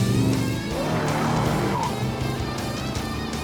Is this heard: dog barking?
no